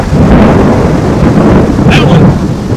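Thunder from a nearby lightning strike rolls as a loud, sustained rumble across several seconds, with no voices over it.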